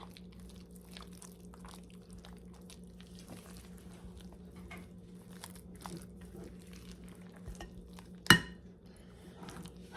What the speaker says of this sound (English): give this a really good mix